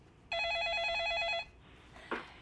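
A telephone rings for an incoming call on a live stock-advice call-in show, one steady electronic trill lasting about a second, followed by a faint click as it is picked up.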